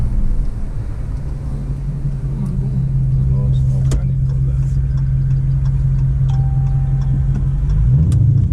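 A Dodge Charger R/T with the 5.7 engine idles close by in a steady, deep, even drone, with small ticks and clicks over it and a slight rise in revs near the end.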